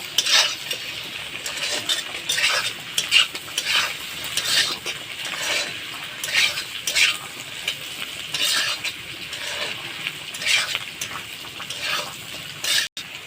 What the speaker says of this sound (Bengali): এবার একটু ভালো করে কষিয়ে নেবে এটা ভেজে নেবে